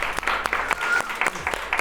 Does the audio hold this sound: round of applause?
yes